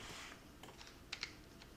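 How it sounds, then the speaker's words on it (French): A few crisp computer mouse clicks while working in GIMP image-editing software, quiet and close, with two sharp clicks near the end over a faint background hiss. "Clic de la souris"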